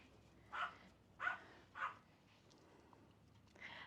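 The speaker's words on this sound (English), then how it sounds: "So I apologize for the dog barking" A Pomeranian dog on a farm gives three sharp, evenly spaced barks close by, followed by a quieter yip near the end, with no talking.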